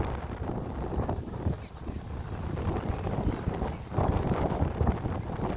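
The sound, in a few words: wind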